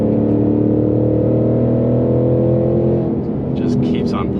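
A 2021 Ford Mustang Mach 1 engine pulls hard through the rev range from inside the car, a loud steady drone that climbs and then shifts, with a voice talking over it.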